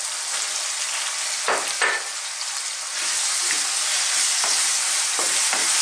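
Minced beef sizzles and fries steadily in a pan with tomato, a loud continuous crackle broken by a few scraping stirs.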